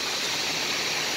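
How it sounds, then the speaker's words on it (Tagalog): Rainwater runs along a road during a downpour in Bahrain, making a steady, dense rushing and gurgling wash that stays close and even throughout, with no voices. "umaagos ang tubig dun guys, kalsada"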